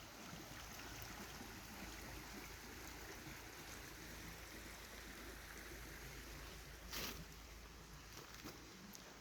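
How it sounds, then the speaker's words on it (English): A big creek rolls along outdoors, a steady, faint broadband rush of flowing water with one brief brighter splash partway through and no talk. "But the big creek is rolling nicely."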